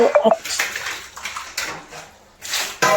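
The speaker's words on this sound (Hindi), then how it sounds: "थोड़े बहुत बर्तन पड़े थे, वो मैं आ गई थी धुलने के लिए।" Dirty dishes and utensils being washed, with water splashing and running alongside intermittent clinks of pots, plates and cutlery, close and moderately loud, with brief gaps and a sharper clatter near the end.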